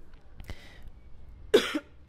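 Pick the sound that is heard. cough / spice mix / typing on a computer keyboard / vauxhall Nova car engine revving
cough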